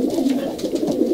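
Racing pigeons coo close by in soft, low, throaty rolls repeating in a steady rhythm, with no voices.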